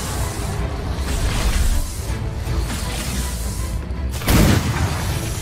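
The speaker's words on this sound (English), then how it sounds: "You actually hit it with a cannon though." Booming blasts of cannon fire in the video game Atlas go off over a dense background rumble, with one sharp loud burst near the end.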